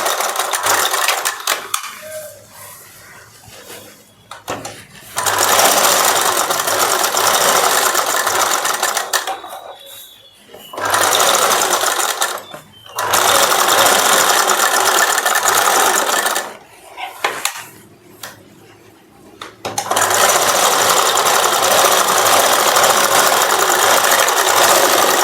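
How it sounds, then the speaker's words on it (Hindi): A sewing machine stitches the side seam of a lined saree blouse in loud, steady whirring runs. It pauses several times for a few seconds between bursts of stitching. "अब मैं साइड वाले पार्ट की भी फिनिशिंग के साथ सिलाई कर दे रही हूँ"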